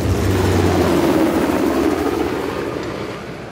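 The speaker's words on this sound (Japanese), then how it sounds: "あいつヘリなんてどこから。" Helicopter in the video game Uncharted, a loud low rotor thrum and engine drone close at first, then fading as it moves away, with no talk over it.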